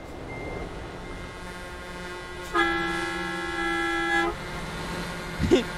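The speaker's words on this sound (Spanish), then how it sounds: "¿Sí escuchan el pito de ese carro, amigos?" Steady car horn honk in Euro Truck Simulator 2, a sustained harmonic tone held for about two seconds mid-clip over low truck engine rumble and traffic, fairly loud and close.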